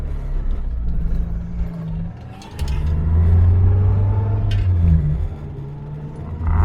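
A Morris 1300 engine runs with a throaty, rumbling exhaust note that drops briefly and then swells louder and steady. It sounds close, and no voices are heard.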